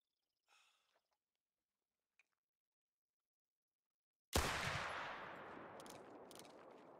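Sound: 45-70 rifle shot in theHunter: Call of the Wild video game

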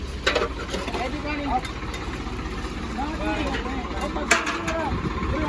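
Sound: tractor engine idling

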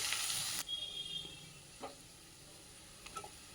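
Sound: vegetables frying with salt and turmeric

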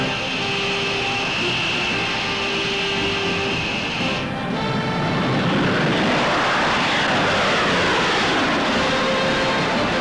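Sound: jet aircraft engines roaring in flight

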